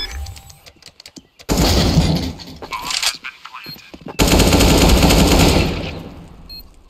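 Gunfire in a shooter video game: long, loud bursts of rapid automatic fire, close and dense, with shorter pops and crackles between the bursts.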